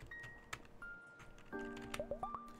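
An old typewriter in the video game Fishbowl gives quiet scattered key clicks, then a quick run of four or five taps with soft chiming tones over low room hum.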